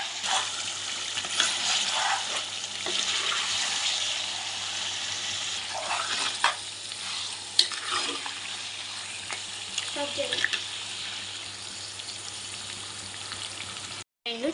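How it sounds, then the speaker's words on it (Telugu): A spoon stirs spicy mutton gravy curry in a pan over a continuous sizzle, with scraping strokes and occasional clinks, ending abruptly. "ఇప్పుడు ఒకసారి మంచిగా కలుపుకోవాలి"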